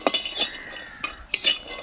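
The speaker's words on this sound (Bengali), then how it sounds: "দেখুন ড্রাই ফ্রুটসগুলো কি সুন্দর ভেজে নিচ্ছে শুকনো কড়াইতে" Dry fruits being dry-roasted without oil in a dry kadai, stirred with a spoon that scrapes and clinks against the pan in a few quick, close strokes.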